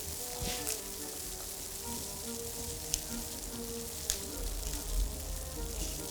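Skirt steaks sizzle in a hot pan with a steady, crackling fry, close and continuous, with a few sharp pops and clanks of the pan along the way.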